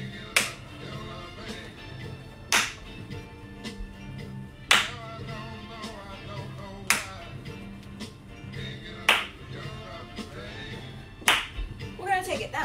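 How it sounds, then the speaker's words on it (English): An exercise class claps in time, sharp single hand claps landing roughly every two seconds over background music, each one crisp and fairly close. "Give me a clap"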